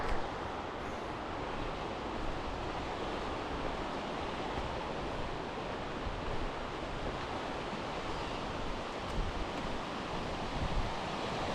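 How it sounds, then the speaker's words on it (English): Fast-moving river water near Whitehorse rushes as a steady, dense roar, close and unbroken throughout with no voices. "that is some fast moving water"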